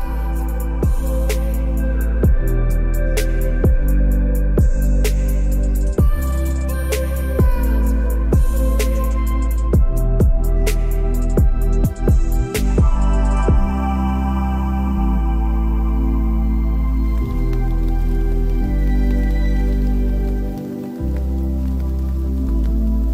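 Rain droplets patter onto a tarp sheltering a wild camp, sharp irregular taps close overhead against a steady low background, loud at first and thinning out toward the end.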